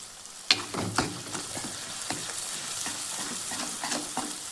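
Peanuts and green chillies frying on low gas for a fasting okra dish, a steady soft sizzle with a sharp scrape near the start and repeated stirring scrapes, close and alone.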